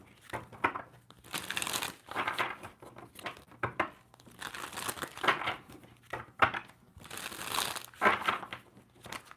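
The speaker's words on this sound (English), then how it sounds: "I love the way these cards shuffle." Tarot cards being shuffled by hand, a series of crisp riffling bursts repeating every second or two at close range, with no talking over them.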